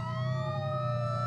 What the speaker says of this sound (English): with their sirens blaring.